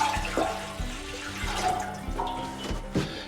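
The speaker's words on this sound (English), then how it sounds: "I'll put that in the pan directly." Maple sap, about three liters, is poured into a pan, giving a close, continuous splashing and gurgling with a few louder surges, heard alone.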